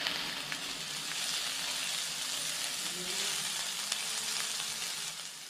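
Chopped onions, ginger and garlic sauté in hot oil in a pan for a boti curry, a constant close, fizzing sizzle with occasional soft stirring clicks and no talking.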